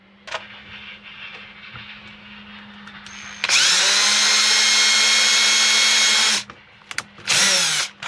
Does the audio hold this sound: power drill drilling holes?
yes